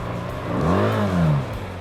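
A BMW R1300 GS adventure motorcycle revs on a steep cobbled road, its engine note rising and falling in one smooth sweep over a steady low drone.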